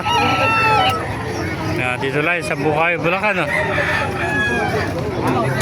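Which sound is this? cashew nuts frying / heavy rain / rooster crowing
rooster crowing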